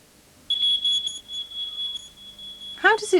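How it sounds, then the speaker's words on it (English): A smoke detector's buzzer gives a run of short, loud, high-pitched beeps, then settles into a steady tone with a voice starting up near the end. "This is a smoke detector."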